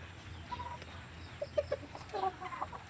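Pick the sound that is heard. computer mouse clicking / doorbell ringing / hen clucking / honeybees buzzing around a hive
hen clucking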